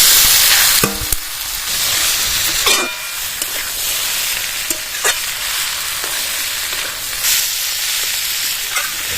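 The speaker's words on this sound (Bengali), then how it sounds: "পেঁয়াজটা ভালো করে ভেজে নিয়েছি এবার ভাজা আলু আর মিষ্টি কুমড়ো ঢেলে দেবো" Fried potato and sweet pumpkin tipped into a pan of fried onion and chopped tomato crackle and sizzle loudly, with a clatter as they land and intermittent scrapes of stirring.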